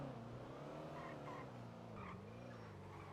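Loud, steady car engine roar from a vehicle driven in GTA NoPixel roleplay, a continuous close growl with wavering pitch and a light squeal of tyres, lasting throughout with no one talking.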